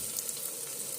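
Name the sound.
frying spices: coriander and red chili powder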